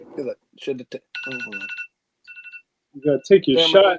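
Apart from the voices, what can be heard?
mobile phone ringing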